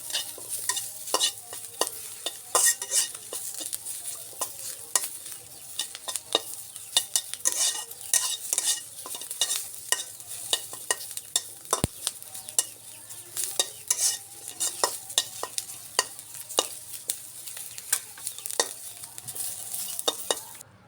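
Onion, garlic and green chili fry in a pan for a village-style mashed small-potato bharta, giving a steady sizzle broken by frequent sharp scraping clicks of stirring. The sound stays close, moderately loud and even throughout, with no talking.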